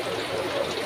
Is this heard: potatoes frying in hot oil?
yes